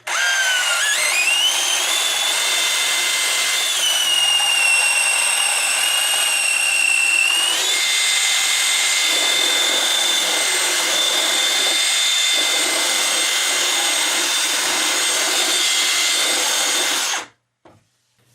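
A power drill bores a 1.5-inch hole through a wooden rim joist during a TV-room remodel for electric and CAT6 cable, giving a loud, steady high whine that holds for about seventeen seconds before cutting off abruptly.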